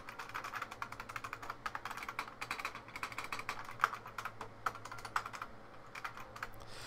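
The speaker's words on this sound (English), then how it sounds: "So the keyboard is very, very loud." A 1998 IBM Model M keyboard with buckling spring switches is typed on, producing a continuous run of sharp, clacky keystrokes at a steady, brisk pace, quiet and close with no talking.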